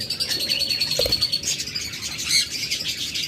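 A flock of budgerigars of mixed colours at a bird dealer's, producing steady high-pitched chirps and warbling chatter throughout, fairly close and continuous.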